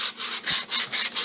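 A wooden cremation urn is sanded by hand in repeated back-and-forth strokes, about six loud, close, rhythmic rasping passes with no talk.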